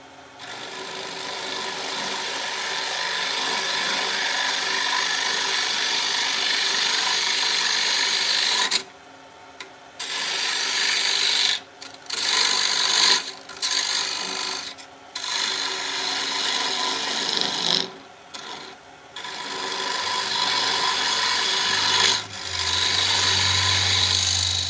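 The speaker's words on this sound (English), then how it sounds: "now I'm going to be taking my roughing tool. And you're going to see me take the material out right here" Roughing gouge cutting a wooden workpiece on a lathe to match a tenon: a loud, steady scraping whir of the tool on spinning wood, broken by several short gaps where the cut stops and restarts.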